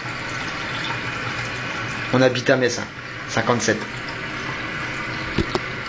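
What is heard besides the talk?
tap water filling a pan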